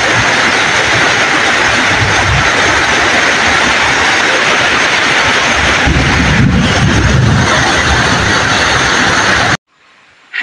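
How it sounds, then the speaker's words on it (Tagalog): Heavy tropical rainstorm with hail and lightning, a loud dense roar of downpour with deep rolling thunder swelling midway, continuous until it cuts off abruptly to near silence at the end. "kusog kayo ang kilat ug dawdog"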